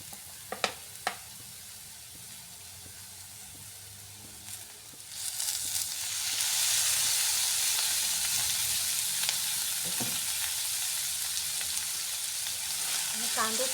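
Onions frying in oil with a pinch of salt: a few utensil clinks, then a dense hissing sizzle swells up and holds steady and close, with occasional light scrapes, no talking.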